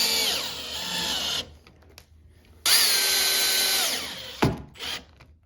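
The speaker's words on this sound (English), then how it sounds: "drive these 2 little screws" A drill-driver sets two small Phillips screws into a door strike plate on a matte black door knob install, two close high whirring bursts separated by a short pause, the second followed by a brief clack and quieter rattling.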